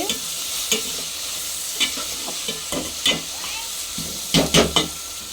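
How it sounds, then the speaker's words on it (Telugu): Chopped onions with salt sautéing in a pan for a punugulu curry, with a steady low sizzle and intermittent scrapes of a spoon stirring, ending in a quick burst of clatter. "ఉల్లిపాయ ముక్కలు అయితే కొంచెం సాల్ట్ వేసుకొని మగ్గించుకుందాము"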